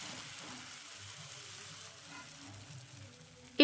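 A spoonful of rice-flour batter for soru chakli pitha spreads in a lightly oiled pan, giving a faint, steady, close hiss that ends with a brief sharp knock.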